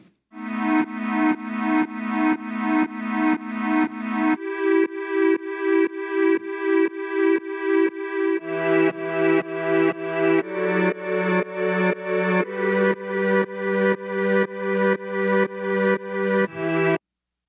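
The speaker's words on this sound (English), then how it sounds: "So that synth swell that you hear in the beginning is from Sky Studios' Sky Keys." Synth swell from the Sky Studios Sky Keys plugin with automatic reverse set in quarter notes, pumping in a steady run of about thirty rising swells while the chord changes twice, alone and fairly loud.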